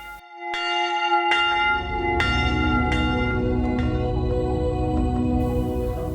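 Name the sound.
church bell ringing in the morning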